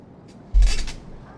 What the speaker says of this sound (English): That's a lot of anti-tank fire that could do a lot of damage here to Jimmy's Panzer IVs very rapidly.